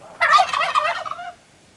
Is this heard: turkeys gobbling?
yes